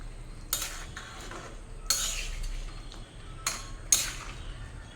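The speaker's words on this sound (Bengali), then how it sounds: "আমি এর আগেও 2 বার দিয়েছি নাড়িয়ে, আবারও ঢাকা দিয়ে দিলাম" A pot lid clanks back on a simmering pot of egg and potato curry in coconut milk after stirring, with a few separate metallic knocks spaced a second or two apart over a faint kitchen background.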